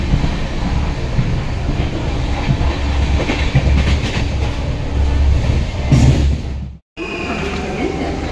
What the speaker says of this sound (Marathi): मी दुसऱ्यांदा या मेट्रोमध्ये चाललो.